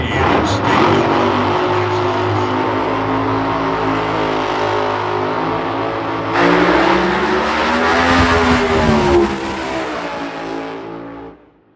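A top alcohol dragster engine at an NHRA Lucas Oil Division 1 drag race revs in a loud, close, sustained roar that climbs in pitch partway through, then cuts off abruptly at the end.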